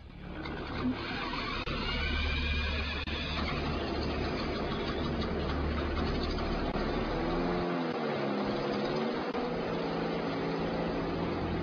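Car engine running while targeted by an electromagnetic generator, a loud continuous mechanical drone that keeps going throughout, with the low rumble dropping out briefly near the end.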